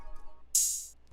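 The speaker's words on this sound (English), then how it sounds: "Then I added this open hat." Open hi-hat sample in an FL Studio trap beat, a single bright sizzling hit ringing out for about half a second over near silence.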